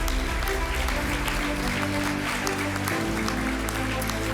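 Applause from a crowd at a global awards and recognition dinner, honoring Hewlett-Packard Enterprise as a winner; steady clapping fills the room alongside a low musical or background hum, with some talking mixed in.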